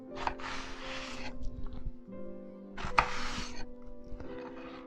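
A knife chops through eggplant on a board in a home kitchen, two bursts of rapid close blows with a steady hum underneath.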